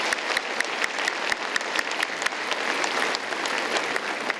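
An audience gives sustained, dense applause at an engineering faculty ceremony. Many close claps blend into a steady roar with no break.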